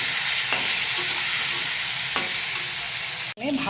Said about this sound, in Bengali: দিয়ে এবার ভালো করে কষে নেব।